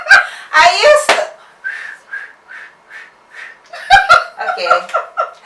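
A person whistles a few short, breathy notes in a halting rhythm, broken by bursts of giggling and chuckling from nearby voices.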